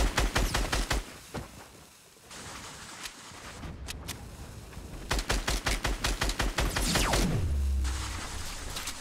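Rapid bursts of minigun fire in the battle royale game Fortnite, loud and near, coming in rattling volleys with brief gaps and a falling whine as the barrels spin down.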